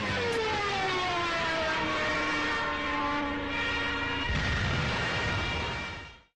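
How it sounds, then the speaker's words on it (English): Wartime recording of a Ju-87B Stuka dive bomber with its Jericho Trumpet siren: a loud, continuous wailing tone that slides steadily downward over roaring engine noise, then gives way to a heavier rumbling blast before fading out. "Jericho Trumpets were mounted on the Ju-87B dive bomber planes."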